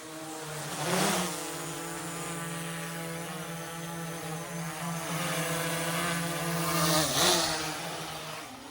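A drone flies overhead above a farm with a steady, buzzing propeller whine that swells as it passes near and then eases off before swelling again. No one talks.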